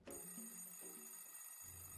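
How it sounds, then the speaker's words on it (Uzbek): A telephone rings with bursts of an electronic bell tone, a few repeated pulses, fairly faint and with no talk over it. "Bu telefonga o'zi 1 yilda bir marta qo'ng'iroq bo'ladi"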